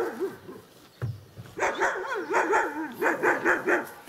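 German shepherd dog barking at cows outdoors, a run of repeated loud barks and yips that grow more frequent, with whining tones between them.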